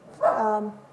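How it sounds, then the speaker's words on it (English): A single short, tonal dog bark or yelp, close and fairly loud, with a slightly wavering, voice-like pitch. "oh, that was a dog? It wasn't a sneeze?"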